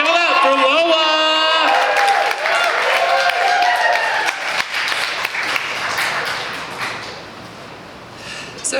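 Audience applause and cheering at a trans talent show in a brewery venue, a dense, loud wash of clapping with harmonic whoops and voices at the start, sustained throughout and slowly thinning toward the end.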